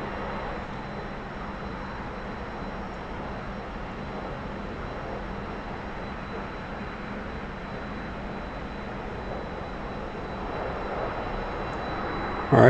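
A T-45 trainer jet's engine drones steadily in the DCS flight simulator, a constant mid-level roar with no talk over it.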